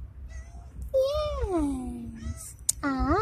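A cat at a plant nursery lets out two drawn-out, close meows, one long and one shorter at the end, while a person talks softly nearby.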